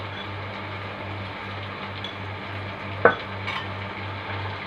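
Sausage frying in a pan is stirred, giving a steady low sizzle and hum throughout, with one sharp scrape or clink of the utensil near the middle and no talk over it.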